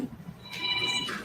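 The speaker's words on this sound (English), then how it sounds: "Uh-oh, phone." A telephone in a courtroom rings with a brief electronic trill, fairly faint against the quiet room, and no one speaks over it.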